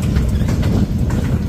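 A CSX freight locomotive rumbles in the West Springfield rail yard, a steady low diesel drone with faint rhythmic clanks and no talk.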